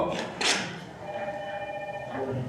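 A phone rings in a county board of supervisors meeting room, a short electronic trill after some shuffling and a thump, fairly faint and set back in the room.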